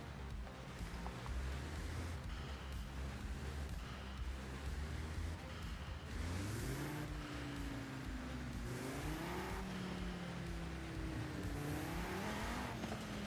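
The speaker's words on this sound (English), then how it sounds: "You can hear the breath in the engine." A car engine in Forza Horizon 5 hums steadily during free-roam driving, then rises and falls in pitch through several revs and gear changes, fairly close and continuous.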